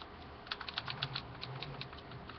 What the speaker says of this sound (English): Small buttons, so they're easy to click.